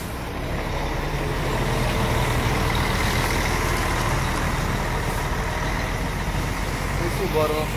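Águia Branca Paradiso 1200 charter coach pulling out of the depot gate on the BR-262 in Cariacica, a steady loud diesel engine rumble with traffic noise throughout.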